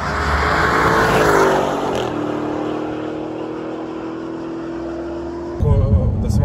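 A tuned Audi S8 with a Stage 1 remap, around 700 horsepower, pulls hard from 100 to 200 km/h. The loud engine and road roar holds steady and surges again near the end, with a voice talking over it.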